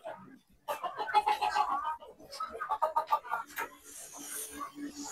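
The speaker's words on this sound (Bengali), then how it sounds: "মুরগের শব্দ" Native desi chickens and roosters on a rooftop farm, clucking and calling in bursts at close range with short pauses, alongside faint background chatter.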